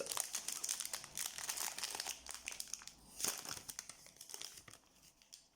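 Crinkly plastic foil wrapper of a Pokémon card booster pack tearing and rustling open close up, a continuous busy crackle with a few sharper snaps, no voices.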